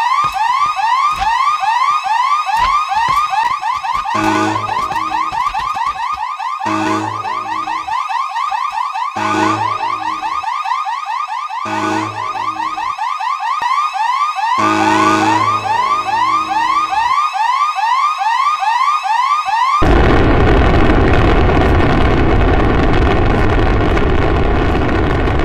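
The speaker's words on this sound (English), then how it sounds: "it has finally launched off to space" A satellite launches in the Minecraft Nuclear Tech mod: a loud electronic alarm wails in repeating rising sweeps for about twenty seconds, then a sustained broadband rocket roar takes over.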